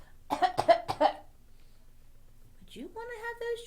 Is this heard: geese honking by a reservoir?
no